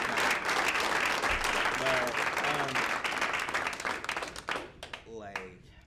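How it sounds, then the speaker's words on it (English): Round of applause from an audience at a live performance in Mountain View, dense steady clapping that thins out toward the end, with a voice briefly heard over it. "I just want to give y'all a round of applause for just being."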